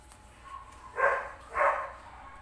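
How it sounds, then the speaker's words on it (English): A dog barks twice in the distance, two short muffled woofs about half a second apart, faint against a quiet indoor room with no talking. "You hear the dog barking?"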